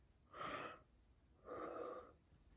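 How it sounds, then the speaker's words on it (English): A person yawns twice, each a long breathy exhale lasting about half a second, close to the microphone with a short pause between them and no talking. "Another yawn."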